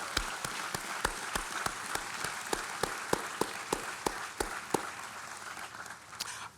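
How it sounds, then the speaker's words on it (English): A sparse, slow round of clapping rings out at a college opening convocation, with distinct single claps in a steady rhythm against a soft background wash of applause, fairly distant and faint. "we can still give them a huge round of applause and our thanks"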